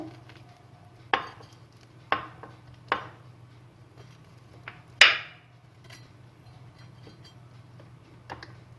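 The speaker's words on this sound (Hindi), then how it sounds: "अब हम इसको काट के दिखाते हैं आपको।" A knife slices through baked cheesy bread pizza rolls topped with green coriander, giving about five sharp, separate cuts spaced roughly a second apart over a quiet room hum, with no talk.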